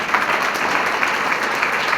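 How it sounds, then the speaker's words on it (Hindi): An audience claps loudly for a team at an Ayurveda business gathering, a dense, steady wash of hands that fills the whole short stretch without pause. "एक बार पूरी टीम के लिए जोरदार तालियां।"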